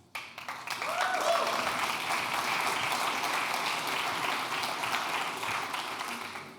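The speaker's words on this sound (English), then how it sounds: "Applause." An audience at a start-up award ceremony during a circular-economy festival claps steadily, a dense, even wash of applause that holds for several seconds, with faint voices beneath it.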